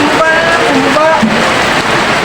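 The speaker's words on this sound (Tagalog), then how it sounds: "ang ulan po sobrang lakas ngayon" Heavy rain pours down at a livestock auction market holding water buffalo, a dense, constant hiss, loud and close, with a few faint tonal sounds drifting through.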